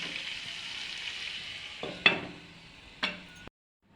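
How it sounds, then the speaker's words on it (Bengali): Chicken kosha fries in a covered pan with a steady close sizzle, broken by a few clanks of a lid or utensil before it suddenly cuts off, with no talk. "আমরা এটা কষা করছি, তাই এটাকে একটু ঢেকে ঢেকে কষতে হবে"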